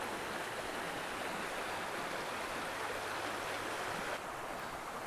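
A shallow mountain stream, only about six inches deep, flows and babbles steadily at close range with a dense, constant rush of water and no voices.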